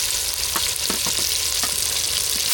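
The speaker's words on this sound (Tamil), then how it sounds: "எல்லாம் வதங்கிட்டு தக்காளி சேர்த்துக்கலாம் சேர்த்து கலந்து விட்டுக்கலாம்" Onions and tomatoes sauté in oil in a pan with a loud, steady sizzle. A utensil stirs the mixture with several scraping taps, and no one speaks.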